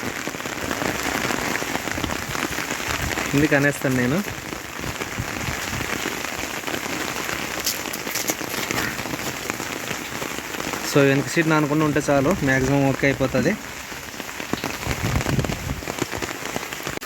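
Heavy rain drums steadily on an auto rickshaw's roof, loud and close throughout, while a person talks over it in two stretches.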